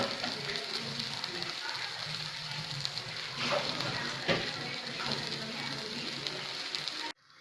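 Tomato chutney dosa sizzles in oil on a covered pan with a steady, soft crackling hiss and a few faint clinks, until it cuts off abruptly.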